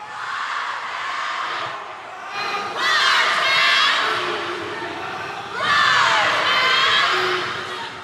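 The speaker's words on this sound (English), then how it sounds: "Fans coming out to cheer on these rivals" Crowd at a Friday-night high school boys basketball rivalry game in Kansas City, cheering and shouting in loud swelling waves, with two big surges of yells and whoops rising over steady arena hubbub.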